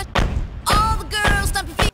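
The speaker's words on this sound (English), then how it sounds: "Wait, I just heard a door." A door being pulled open and shut in the survival game Rust, heard as several loud, close thuds and bangs in quick succession with a brief creaking tone between them.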